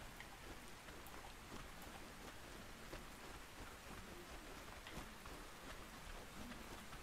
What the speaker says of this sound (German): Es regnet die ganze Zeit